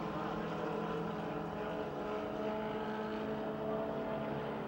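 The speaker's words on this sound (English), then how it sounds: "He is turning some RPMs." A race car engine at Pittsburgh's Pennsylvania Motor Speedway drones loudly and steadily at high RPM, a continuous roar with no break and no talk.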